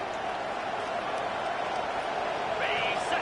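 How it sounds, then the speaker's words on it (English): Steady roar of a stadium crowd in a college football video game, constant and loud, rising slightly toward the end as fans cheer on the defense, with commentary over it. "It is getting loud as this crowd tries to help its defense."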